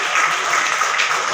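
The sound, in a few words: applause welcoming guests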